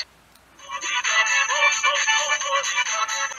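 FM radio on a budget F+ B280 family mobile phone, played through its external loudspeaker, sounds after a half-second of quiet: thin, midrange-heavy broadcast audio, steady and fairly loud, with no talk over it.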